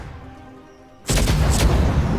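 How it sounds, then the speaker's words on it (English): Plasma cannon firing in the video game Sid Meier's Starships: after a quiet hum, a sudden loud booming blast erupts and rumbles on with crackling bursts. "That's the plasma cannon there, I believe."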